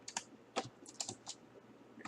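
Quiet, close typing on a computer keyboard: a handful of irregular, separate key clicks with short pauses and no speech.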